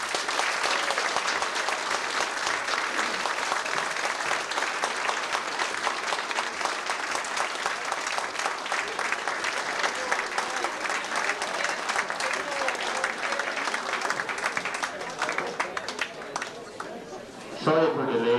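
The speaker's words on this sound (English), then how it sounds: "give a great round of applause for Colin McIlarney" Sustained applause from a dinner-dance crowd at a hotel in Gortahork in 1989, welcoming special guest Colin McIlarney; dense, even clapping fills the room for about seventeen seconds before tapering off abruptly.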